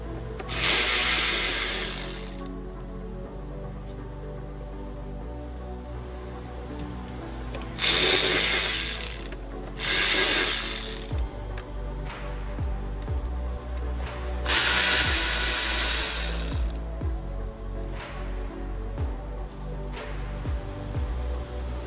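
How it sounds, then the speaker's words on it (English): Four 10 mm bolts come out of the lower timing belt cover on a Toyota Sienna 3.3L, with several loud, close bursts of a power tool whining between quieter stretches of metallic clicks and handling noise, and no talking. "it's got 1, 2, 3, 4, 10 millimeter bolts on this bottom timing cover. Snap those off."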